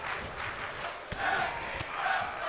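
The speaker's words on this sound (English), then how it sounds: "the crowd chants for tag team wrestling" An arena crowd in the WWE 2K22 wrestling video game chants in rising, rhythmic waves, loud and massed, punctuated by a couple of sharp impact thuds.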